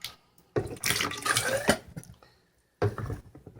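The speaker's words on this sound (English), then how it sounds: "now I'm going to use the baster to pull out some of the water, and then I'm going to put it in the tube" Water sucked up with a kitchen baster and squirted into a tube while sanitizing mead-making gear, giving two bursts of splashing and gurgling with a quiet pause between them, close and fairly loud.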